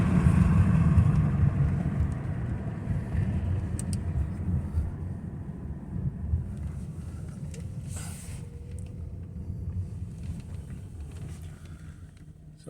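A 1998 BMW 528 with a transmission fault drives while stuck in one gear and not shifting. A steady low engine drone and road rumble fill the cabin, fading slightly, with no clear gear change.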